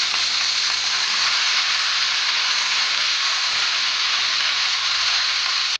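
Mint leaves sautéing in a pan for Tamil puthina thuvaiyal, a steady, dense sizzle and frying hiss running unbroken and fairly loud throughout, with no voices.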